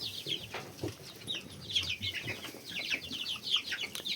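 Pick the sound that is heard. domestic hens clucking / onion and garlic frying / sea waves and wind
domestic hens clucking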